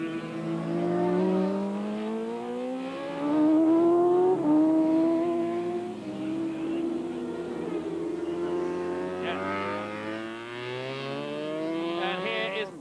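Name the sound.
racing motorcycle changing down through the gearbox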